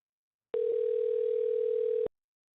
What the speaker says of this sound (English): They're hanging up right away.